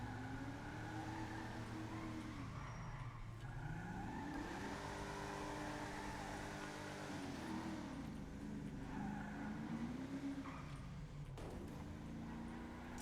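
A car drives along with its top down, its engine droning steadily and rising and falling in pitch as it works through the gears, loud and close throughout with no talk over it.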